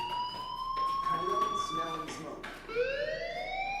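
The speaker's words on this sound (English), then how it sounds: "Hey, do you hear that fire alarm?" A fire alarm in the video game Life is Strange wails with rising and falling siren-like tones, fairly loud and continuous, with a brief dip before sweeping up again.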